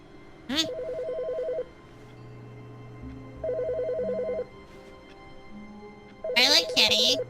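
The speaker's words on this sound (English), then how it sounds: "Okay, so we can't pick up the phone." A telephone rings in The Stanley Parable game with repeated electronic trilling bursts separated by pauses, the rings fairly loud against a quiet room tone, with brief voices and other game sounds in between.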